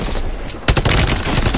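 Gunfire in a video game, a sharp burst at the start of rapid, repeated shots rattling on after a quieter stretch, loud and close, with no talk over it.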